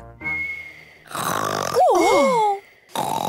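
Cartoon pig from the French Peppa Pig animated series snoring loudly, a voice imitating the sound with drawn-out wheezy, whistling breaths and bending snorts, separated by short pauses, close and prominent.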